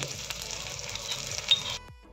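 Ginger, garlic and onion frying in a wok-style pan give a steady close sizzle with faint scraping stirs, running for a couple of seconds before cutting off into near silence.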